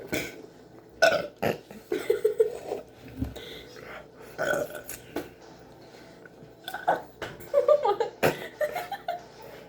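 Burps after drinking a whole can of Diet Pepsi, several short throaty bursts scattered among giggles, whispers and stifled laughter, fairly quiet and close.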